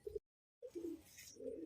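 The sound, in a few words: pigeon cooing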